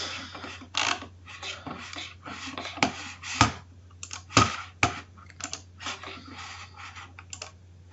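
Computer keyboard keys clicked in irregular bursts of typing while an attendance list is copied down, close and fairly clear over a steady low hum, with no talking.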